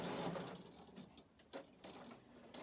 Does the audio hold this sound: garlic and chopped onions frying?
no